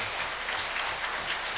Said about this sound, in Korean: 우리 뜨거운 박수 드리겠습니다